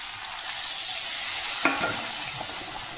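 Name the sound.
eggplant pieces frying and being stirred in a curry pan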